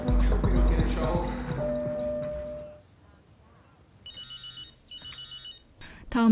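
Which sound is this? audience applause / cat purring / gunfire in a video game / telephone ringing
telephone ringing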